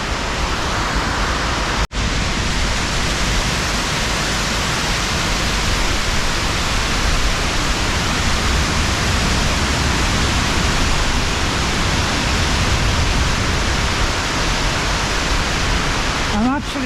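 Water rushing out of a hydroelectric station in the Elan Valley, a loud, constant broadband roar heard close by with spray in the air. Talking sits underneath, and there is a brief dropout near the start.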